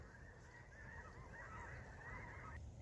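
A gaggle of geese honking in a field, faint and distant, a dense overlapping chorus of calls running continuously with no voices.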